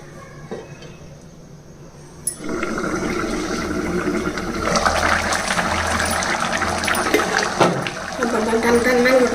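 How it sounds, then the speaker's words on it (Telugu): Water is poured into a pot of mixed-vegetable curry with mango pieces, a continuous rushing, splashing gush that builds and stays loud over several seconds, with brief clinks of the vessel. "కొంచెం గ్లాసున్నర నీళ్ళు పోయాలి."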